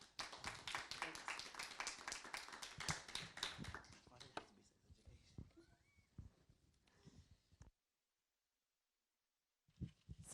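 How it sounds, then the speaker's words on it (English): Audience applause at an Opéra Comique preview event: several seconds of close, lively clapping that thins out and dies away, followed by near silence and a few spoken words. "Can we have a round of applause?"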